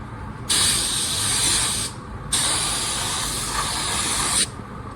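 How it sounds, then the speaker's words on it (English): Automotive spray gun with pressure set too high shooting clear coat up against a foam masking edge: two long loud hissing bursts, close, separated by a brief pause. "Pressure's like way too high on here. And I'm shooting it up right against that foam edge"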